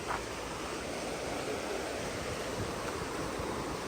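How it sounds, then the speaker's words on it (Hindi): Fast-flowing river water rushing beneath a footbridge for pedestrians near Kalam in Swat, a steady, dense roar with no breaks and no voices. "इतना तेज़ बहाव है पानी का"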